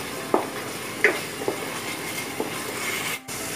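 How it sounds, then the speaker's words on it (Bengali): Spice paste cooking with ground tomato in oil in a pan, a soft continuous sizzle with a few sharp stirring scrapes and taps, close and fairly quiet. "এবার টমেটো বাটাটার সাথে মশলাটাকে ভালো করে কষিয়ে নিতে হবে।"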